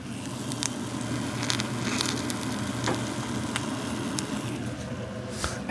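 An egg frying in a Darto carbon steel non-stick pan gives a steady, close sizzle with scattered crackles and pops throughout, and no talking.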